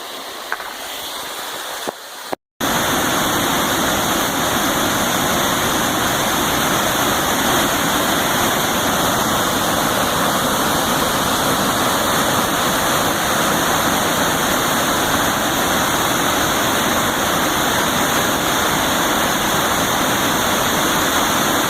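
A creek crossing a hiking trail on the Eagle Creek route to Wahtum Lake rushes loudly and steadily, a close, dense wash of flowing water that begins abruptly after a brief quieter moment and continues without talking.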